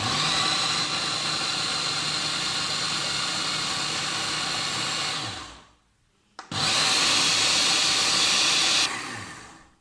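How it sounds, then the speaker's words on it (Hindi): An electric chopper grinds gravy for dam kabab, a steady loud whirring roar for about six seconds, a brief pause, then a second burst of grinding. "एक चॉपर की मदद से इसको हम ग्राइंड कर लेंगे।"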